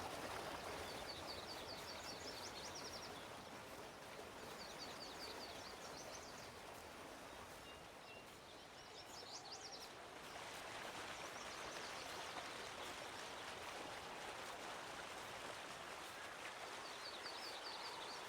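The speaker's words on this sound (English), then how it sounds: "And then there's another waterfall here." A waterfall stream in Farming Simulator 19 on the Felsbrunn map gives a steady, faint rushing wash, with short chirping bird calls repeating in the background and no one speaking.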